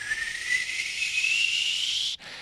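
A kettle whistles as water boils: a steady, hissing, high whistle slowly rises in pitch, then briefly cuts out and returns softer, as if lifted off the heat.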